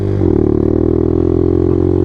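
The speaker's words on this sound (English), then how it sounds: "I am on a DR200 climbing a hill in third gear" A Suzuki DR200 motorcycle climbing a hill in third gear. The close engine drone shifts pitch briefly at the start, then holds a steady, loud, even hum.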